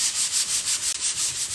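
A painted wooden farmhouse sign over a wax resist being sanded by hand, close rhythmic rubbing strokes repeating about five times a second with a brief break midway.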